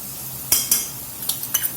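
Garlic goes into a hot pan for Louisiana-style chicken pasta, stirred with a utensil that clicks and scrapes against the metal in a few sharp strokes over a faint, steady sizzle.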